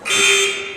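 A loud, steady electronic buzzer sounds once, sharp and close, at the end of the first half of a boys' varsity high school basketball game.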